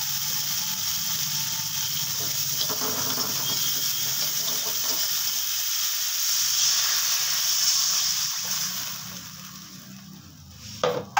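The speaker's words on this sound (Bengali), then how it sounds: "এবার আমি ঝোল দিয়ে দিচ্ছি।" Fish curry broth poured onto fried spice paste in a pan for a Bengali pabda fish curry, giving a loud, steady sizzling hiss that runs nearly the whole time before fading at the end.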